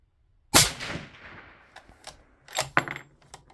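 A single suppressed 300 Norma Magnum rifle shot firing a 208-grain ELD-M bullet cracks sharply and loudly, then decays, followed by a few clicks and clatters of handling.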